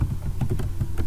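Rapid typing on a computer keyboard, a quick run of close, crisp key clicks in an uneven rhythm, with no voices.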